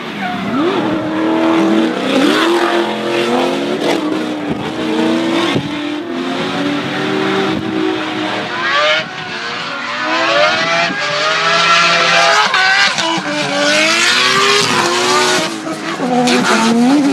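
An FC RX7 chases an S14 in a drifting championship battle at Taupo, loud engines revving and bouncing in pitch with long tire squeals over the whole run, close and continuous.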